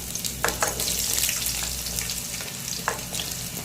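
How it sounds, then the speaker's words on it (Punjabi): Eggplant sizzling in hot mustard oil in a pan, a steady loud frying hiss with a couple of sharp spatters, no voices. "ਤੇਲ ਵੀ ਜਿਹੜਾ ਹੈਗਾ ਸਾਡਾ ਗਰਮ ਹੋ ਗਿਆ ਪਹਿਲਾਂ ਇਹਦੇ ਵਿੱਚ ਆਪਾਂ ਜਿਹੜੇ ਹੈਗੇ ਆ ਬੈਂਗਣ ਹੀ ਪਾਣੇ ਆ"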